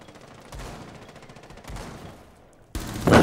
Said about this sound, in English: The recoil on the MP5 though.